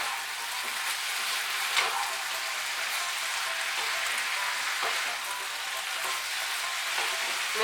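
Greens with salt and green chillies are stirred in a hot pan, giving a steady soft sizzle with faint scraping touches throughout, moderately close and unbroken by talk.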